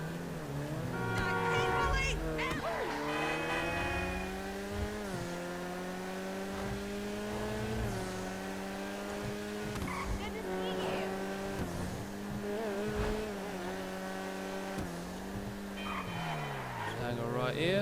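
A car in GTA 5 Online is driven through city streets, its engine revving up and down through gear changes with occasional tire squeals, loud and continuous throughout.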